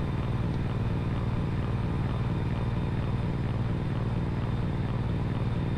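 An Osprey tiltrotor aircraft in X-Plane 11 holds a steady, loud droning rotor hum with a faint rhythmic pulse, its throttle pulled back to idle and no one talking over it.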